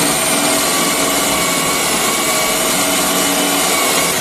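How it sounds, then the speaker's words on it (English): A loud, steady whine of a Ryobi 18V brushless cordless combi drill boring into solid oak at highest speed, dense broadband noise with no pauses. "that's now drilled a nice flat-bottomed hole in my piece of solid oak"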